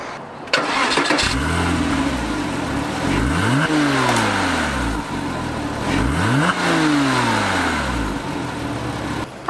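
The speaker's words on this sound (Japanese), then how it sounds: "ポルシェボクスターを借りました。" A white Porsche Boxster revs hard several times, each sweep of the engine climbing and falling back, loud and close with no talking.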